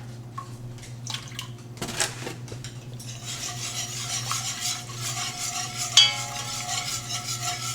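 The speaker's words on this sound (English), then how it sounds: "We're gonna go ahead and start stirring that." A utensil scrapes and clinks around a pot of mac and cheese sauce, soft and close at first, then joined by a louder continuous hiss with occasional sharper knocks.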